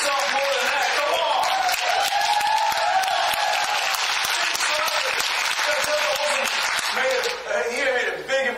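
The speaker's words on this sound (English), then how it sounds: "Give yourselves a round of applause." An audience gives itself a loud, sustained round of applause, with dense clapping, a few crisp individual claps standing out, and some voices and cheers mixed in.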